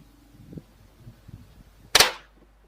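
A single sharp, loud crack from a distant sniper rifle shot striking a combat helmet rings out after a stretch of faint low rumbling and soft knocks.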